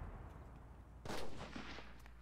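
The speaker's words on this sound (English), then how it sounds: "I'm getting shot at." Gunfire in the battle royale game Cuisine Royale: a loud burst of shots about a second in, then a few fainter follow-up shots trailing off over steady background game noise, with no talk.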